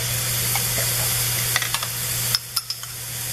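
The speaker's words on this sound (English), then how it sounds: "at this point they're starting to fry up really good" Onions and food frying in a pan for a healthy butter chicken, a continuous close sizzle with a steady hum underneath, broken by a few sharp crackles and pops toward the end as something is stirred or added.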